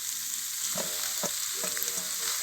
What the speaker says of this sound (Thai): อันนี้เราผัดเส้นโลนึงนะครับ